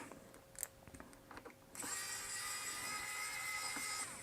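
A small electric screwdriver runs on the pentalobe screws of an M1 MacBook Pro bottom case, a faint steady whine starting partway through after some light clicks and handling.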